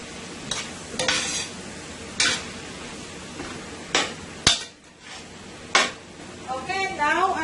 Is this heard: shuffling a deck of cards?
no